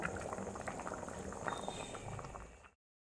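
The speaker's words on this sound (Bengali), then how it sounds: "আর এই যে এখানে ডাল সেদ্ধ হচ্ছে," Mung dal boiling in a pot, a continuous close bubbling and gurgling of simmering liquid that runs steadily and then cuts off abruptly near the end.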